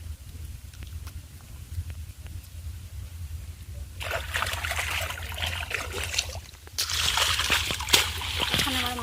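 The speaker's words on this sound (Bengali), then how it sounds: "এখন ভাতিটা ভালোভাবে পরিষ্কার করে ধুয়ে নিচ্ছি" Rice is rinsed with water in a village kitchen, with splashing and sloshing that begins partway in and grows louder in uneven bursts, close by over a low background hum.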